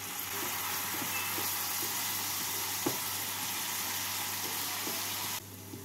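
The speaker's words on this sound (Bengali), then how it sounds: "অল্প জল দিয়ে পেঁয়াজের সাথে মশলাগুলো কষিয়ে নেব।" Onion and spice paste with a little water frying in a pan for fish kochuri, a soft, even low sizzle with a faint hum underneath, dropping away at the very end, no voices.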